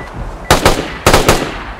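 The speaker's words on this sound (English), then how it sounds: "Was that you shooting?" Video game gunfire: two loud, close bursts of rapid shots, each a quick double crack, separated by a brief pause and trailing into a faint echo, with no talking.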